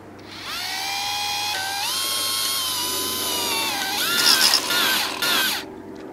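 Power driver with a Torx bit spins a threaded rod into a chemical anchor until it locks fully, a steady high motor whine rising in pitch, then straining and stopping near the end.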